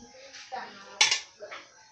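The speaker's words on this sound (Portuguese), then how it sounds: "sacode um pouco mais a panela" Cooked chicken being shaken in a pan so it shreds, for a chicken lasagna filling: a few soft metallic clatters and scrapes, with one sharper knock of the pan near the middle.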